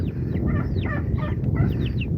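Turkeys and other farm fowl gobble and call at feeding time, several overlapping bursts over a steady outdoor rumble, fairly close and continuous.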